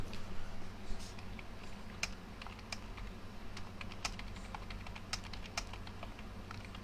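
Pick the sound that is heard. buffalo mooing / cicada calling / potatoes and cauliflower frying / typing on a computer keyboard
typing on a computer keyboard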